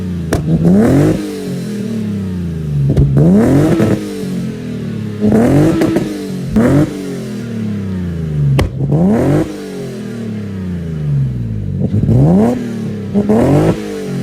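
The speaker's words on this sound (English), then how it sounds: "This is the Greddy RS exhaust, and as you can tell, it's a nice and loud exhaust" A Lexus IS300 fitted with a Greddy RS exhaust revs repeatedly in loud, rising bursts, each climb followed by a drop back to a rough idle, close to the microphone with no talking.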